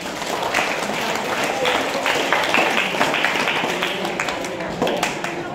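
Students at Tha Sawang school in Surin, Thailand, applaud a classmate during an ethics training session, with steady, dense clapping from a group filling the room and lasting several seconds.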